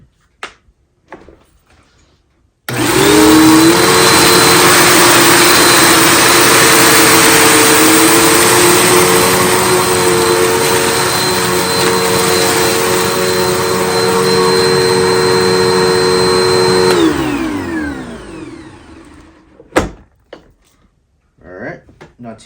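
A Bissell PowerForce 1398 bagged upright vacuum cleaner, a budget machine, runs over a floor scattered with dirt and rice. It roars on abruptly, holds a loud steady drone with a high whine for about fourteen seconds, then spins down into faint handling noises.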